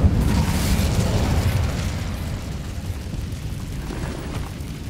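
The Incendio fire spell is cast in a video game: a loud burst of roaring, explosive flame at the start that eases into a steady, crackling rumble lasting several seconds.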